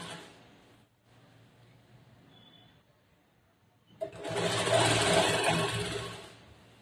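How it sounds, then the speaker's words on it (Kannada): A sewing machine stitching along a line on a churidar top, a quiet start followed by a loud steady whirring run of about three seconds that then eases off. "ಜೋಡಿಸ್ಕೊಂಡು ಇವಾಗ ಲೈನ್ ಮೇಲೆ ಸ್ಟಿಚ್ ಮಾಡ್ತೀನಿ"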